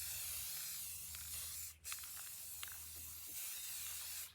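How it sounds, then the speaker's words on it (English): Rust-Oleum 2x matte clear sealant hisses from an aerosol can onto painted work boots outdoors in a long, steady, faint spray with one short break partway through, no voices. "We're going to use the Rust-Oleum 2x matte clear to seal these."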